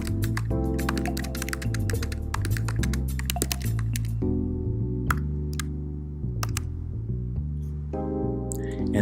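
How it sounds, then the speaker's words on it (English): Steady, rapid clicking of computer keyboard keys as a message is typed, close and continuous, layered over soft background music with a brief pause midway. "So let's type a message to our families."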